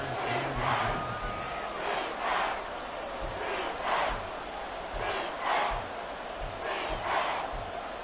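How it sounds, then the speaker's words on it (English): In an EA Sports football video game, a stadium crowd roars loudly and steadily, with rhythmic swells of chanting and cheering pulsing through a dense wall of noise. "this crowd trying to force a false start here"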